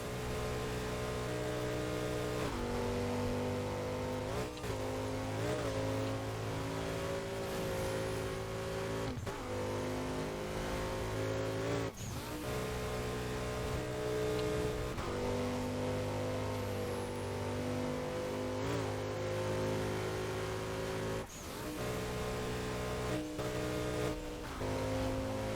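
Loud, continuous engine drone of a car in the racing video game Burnout, holding a steady revving pitch for the whole stretch with a few brief dips and knocks, and no talk over it.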